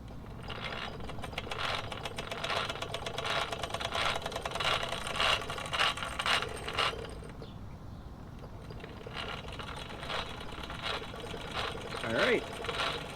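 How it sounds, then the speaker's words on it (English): A Wilesco D-405 model steam engine runs with rapid mechanical chugging and clattering, continuing steadily throughout with a brief pause in the middle. "running pretty good"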